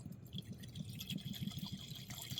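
Acetone is poured into a container, giving a faint, gurgling trickle of liquid with small uneven splashes and drips in a quiet room.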